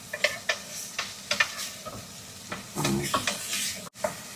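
Onions frying in a pan for a lasagne meat sauce, browning as they cook, with a steady close sizzle broken by repeated scrapes and stirs of a utensil against the pan.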